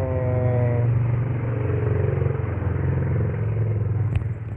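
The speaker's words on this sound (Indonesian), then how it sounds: "mana motor di luar berisik sekali" Motorbikes pass by outside, a steady loud engine rumble that lasts throughout, with a brief sharp clack near the end.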